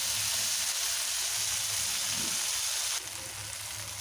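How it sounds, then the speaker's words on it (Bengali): Prawns being turned over as they fry in hot oil in a wok, giving a continuous close hiss and sizzle with no pauses, slightly quieter toward the end. "দেখুন চিংড়িগুলো আস্তে আস্তে উল্টে পাল্টে ভেজে নেব।"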